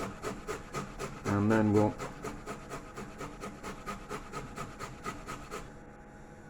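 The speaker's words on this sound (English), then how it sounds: "we've got 25 grams of ginger. I'm just going to grate it" Fresh ginger, about 25 grams, being grated by hand in a kitchen, giving a steady rhythmic rasping scrape, stroke after stroke, with a brief burst of talk partway through.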